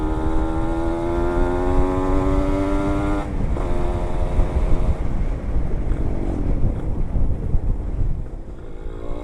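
A Kawasaki Ninja 150 RR with spoked wheels rides along, its engine note climbing in pitch then dropping as the rider shifts, buried in heavy wind buffeting against the microphone, with no voice heard.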